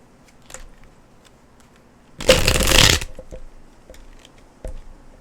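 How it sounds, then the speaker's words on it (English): A single brisk riffle of tarot cards lasts about a second, crisp and close, with faint small handling clicks before and after in quiet surroundings. "Let's give it a good shuffle."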